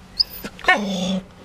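A dog nearby gives a quick yip, then a longer whining, bark-like cry lasting about half a second, with no other sounds around it.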